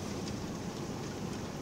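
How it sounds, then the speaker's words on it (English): Heavy rain pours steadily during a tornado, a dense, even hiss with a low rumble beneath it, continuous and fairly close with no voices. "Mom, there's so much rain I can almost feel it."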